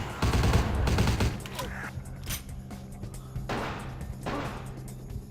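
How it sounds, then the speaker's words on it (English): Gunfire in the video game Vampire: The Masquerade – Bloodlines, a dense burst of rapid shots up front that gives way to scattered, quieter impacts and clatter, with occasional speech-like sounds underneath. "He's shooting their own guy."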